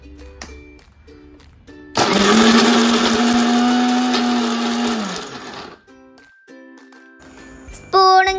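An electric mixer grinder whirs loudly for about three seconds, crushing ingredients in its jar, then stops; quieter clinks and handling sounds come before and after, with another short burst of whirring at the very end.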